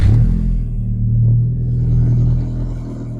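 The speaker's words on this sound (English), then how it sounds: "Let me start the car for you quickly." A car engine idles right after a cold start, a deep, steady close rumble with a slight rise in revs partway through before settling.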